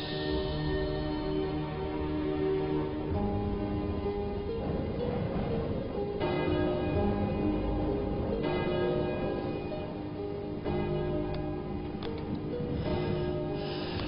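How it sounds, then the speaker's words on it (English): A church bell tolls repeatedly, each heavy ringing strike followed by a long humming decay that overlaps the next, steady and resonant at moderate loudness, with no talk. "The bell invites me."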